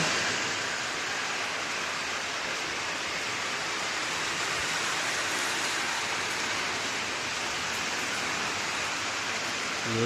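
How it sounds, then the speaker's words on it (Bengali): Heavy monsoon downpour falling outside a home, a dense, steady hiss of rain filling the whole clip without pause, close and loud, with no voices. "দেখা বাইরে মুষলধারে বৃষ্টি হচ্ছে।"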